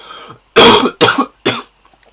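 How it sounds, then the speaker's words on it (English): Three loud, harsh coughs in quick succession, close up, each a forceful burst followed by a brief pause. "excuse me, I need to cough"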